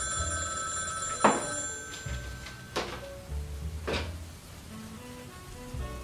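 A telephone bell rings in short bursts over a faint, rainy background hiss, fairly quiet overall.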